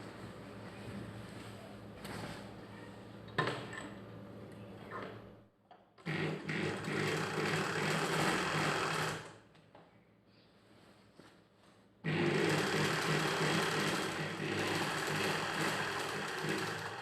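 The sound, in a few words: sewing machine stitching a joint of a kids' pattu langa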